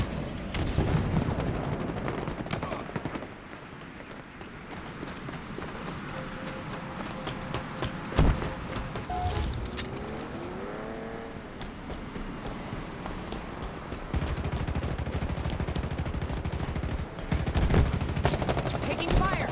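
Gunfire exchanges in the video game Halo Infinite, bursts of shots and booms scattered through a busy battle mix with footsteps and voice chatter underneath.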